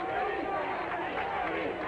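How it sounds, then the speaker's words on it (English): Crowd noise from a high school football game, the 1991 Pikeville vs. Harrodsburg Class A state semifinal, rises as a steady, dense roar of cheering and chatter from a packed stand, with a commentator talking over it throughout. "I tell you, listen to this crowd"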